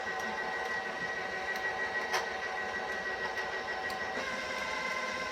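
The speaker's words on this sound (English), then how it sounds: "Whoops, my mixer's backwards when I do my videos." Electric hand mixer whirring steadily through banana nut muffin batter with flour, a continuous close, loud motor drone with faint clicks of the beaters against the bowl.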